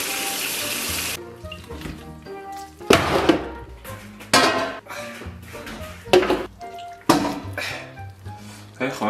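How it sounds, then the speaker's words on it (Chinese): Braised beef ribs are chopped with a cleaver on a board, giving a series of sharp, irregular thuds and clacks close by, with pauses between strikes and a wet, watery background. "剁了一下，这个牛排还是藕断丝连。"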